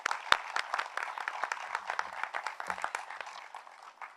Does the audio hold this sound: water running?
no